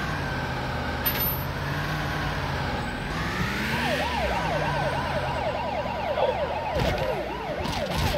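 Police sirens in the video game Turbo Dismount wail and sweep up and down over a steady engine rumble, with a second siren's rapid yelp joining partway through, loud and close.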